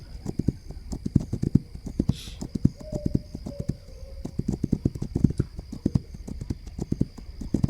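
Horse hooves galloping in the video game This Land is My Land, a steady rhythmic clip-clop of close, sharp hoofbeats running throughout, with a brief whinny-like tone in the middle.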